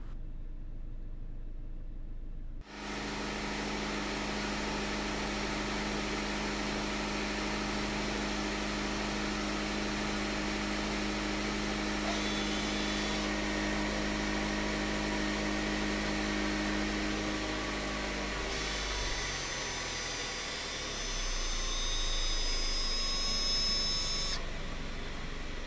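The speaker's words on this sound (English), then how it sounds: "And we should shortly hear the motors winding back." Electric park brake motors on a Jaguar wind back in service mode, triggered with a Foxwell NT530 scan tool: after a brief quiet start, a steady droning electric whine runs on, shifting in tone near the end.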